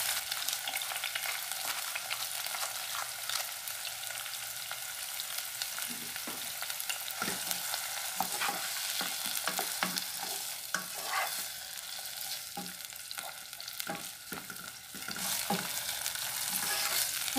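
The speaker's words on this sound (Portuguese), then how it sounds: "Eu vou refogar um pouco desse tempero." Garlic and seasoning sautéing in a pan for a salt cod moqueca, with a steady sizzle and repeated scraping stirs from a utensil that continue for the whole stretch, with no talking.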